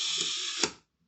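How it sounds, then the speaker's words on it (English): A 1975 Zorki 4K 35mm rangefinder camera fires its shutter, a close mechanical whir ending in a crisp click, then silence. "to activate the shutter,"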